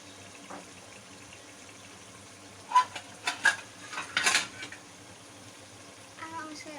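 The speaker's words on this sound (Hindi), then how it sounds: "अब हम इसके अंदर आधा कप पानी डाल के इसको 10 मिनट के लिए पकाने के लिए रखेंगे।" Half a cup of water splashes into a simmering mutton kofta curry gravy in a few short, faint pours over a quiet kitchen background.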